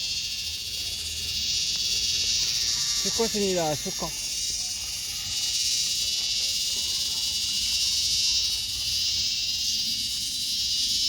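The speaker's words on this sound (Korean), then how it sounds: "와 말매미 다섯 마리째예요 와 말매미가 많네 여기가" Korean large cicada calling outdoors, a loud steady buzzing drone sustained throughout, with someone speaking briefly over it.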